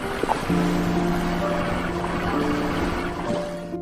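A repaired fishing boat engine runs at full throttle, a steady loud drone with sustained tonal hum after a brief sputtering start, near and continuous with water and wind noise around it.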